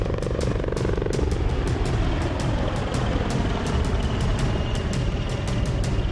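Steady loud rotor thrum and turbine whine of an HAL Dhruv advanced light helicopter, with a rapid rhythmic chop throughout, no voices.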